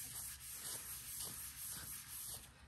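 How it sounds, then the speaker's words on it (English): Silicone tattoo practice skin wiped down with rubbing alcohol on a cloth, a steady close rubbing swish repeating in short strokes, with no talking. "This just gets rid of any dust or residue"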